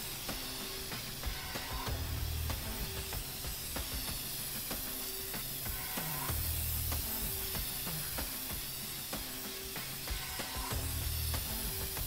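Spray can hissing in the video game inFAMOUS Second Son, a steady continuous spray over a constant backdrop of game ambience, with repeated low tonal bursts underneath and no talk.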